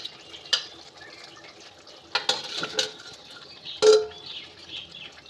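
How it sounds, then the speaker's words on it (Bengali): Fried katla fish pieces go into a bubbling masala with a little water, making a few quiet, separate wet plops and soft clinks against a near-silent kitchen background. "এবার আমি ভেজে রাখা মাছগুলোকে দিয়ে দেব।"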